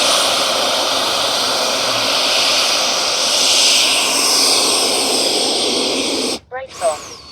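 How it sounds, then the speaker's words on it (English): A small jet engine on a Freewing 70mm EDF F-22 Raptor RC model plane whines steadily close by for several seconds, then cuts off abruptly, followed by a brief rising whine. "Just an absolute fabulous flying little F-22."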